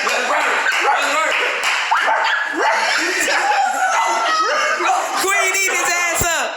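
A person imitates a dog's barking in a barking contest, with rapid yappy bark-like yelps and whines repeated throughout amid loud, overlapping chatter and laughter from a group nearby.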